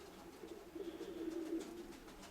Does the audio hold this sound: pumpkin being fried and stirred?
no